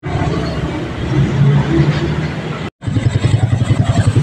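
A motorcycle with a stock engine and a 30mm part, still cold, runs nearby; its rough idle churns loudly, then cuts briefly before returning as a steady, rapid, pulsing putter.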